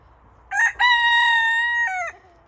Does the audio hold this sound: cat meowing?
no